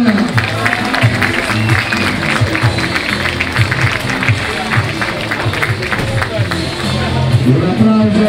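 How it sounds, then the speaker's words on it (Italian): Outdoor crowd applauding at a rainy, muddy Italian motocross championship podium, dense steady clapping lasting throughout, with a voice speaking over a public address. "Un applauso a questi tre campioni"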